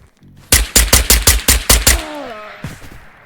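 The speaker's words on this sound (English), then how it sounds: "There's shooting." Close, loud burst of about eight rapid gunshots in an extraction shooter video game, evenly spaced over roughly a second and a half, followed by a ringing tail and a faint later shot.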